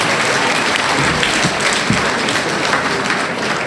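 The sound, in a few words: audience applause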